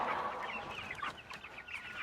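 Several chickens cluck softly close by, with short overlapping calls and faint rustling, no voices.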